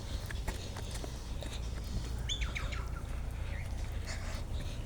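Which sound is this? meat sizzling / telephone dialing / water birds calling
water birds calling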